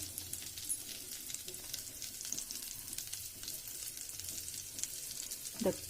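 Cashew nuts and raisins frying in hot oil for South Indian pongal, a quiet steady sizzle with faint crackles and a small clatter near the end.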